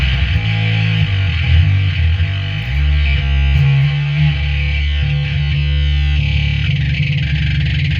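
Bass guitar played through an animated bass fuzz pedal, giving a dense, bright, distorted tone with heavy low end, sustained and loud for the whole stretch with no talking.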